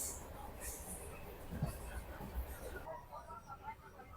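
A train running at 85 km/h rumbles along steadily at moderate volume, with wheels and carriage noise blending into a continuous low roar and faint background voices.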